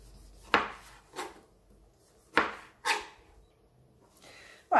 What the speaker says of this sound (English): we're going to cut our tomato using the claw